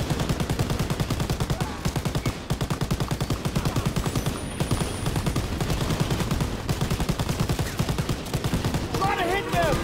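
Dense, continuous gunfire from the Call of Duty WW2 video game: rapid overlapping machine-gun bursts and rifle shots hammer steadily throughout, loud and unbroken, with faint game sounds mixed in.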